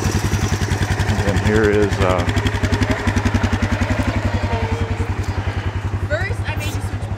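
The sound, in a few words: Honda CT110 motorcycle idling out of gear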